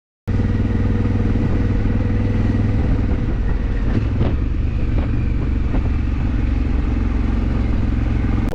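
A motorcycle ride recorded up close, with a steady, loud engine drone and heavy wind rumble that carry on unbroken, plus a few faint clicks, and no talking.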